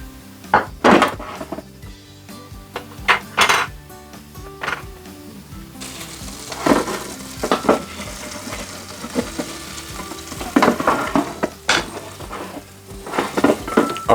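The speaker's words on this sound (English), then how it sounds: "Now in goes your 15 grams or 30 grams in my case of butter. Now we don't want to burn it." Butter melting and sizzling in a Ninja Combi pan, with a steady frying hiss broken by repeated scraping and stirring clatters of a utensil against the pan, close and fairly loud.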